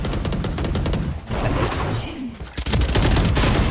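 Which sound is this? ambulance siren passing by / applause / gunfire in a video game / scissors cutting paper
gunfire in a video game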